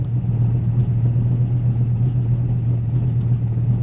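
A Gen V Dodge Viper fitted with a polyurethane transmission mount idles steadily, its deep low rumble close and constant with no speech over it.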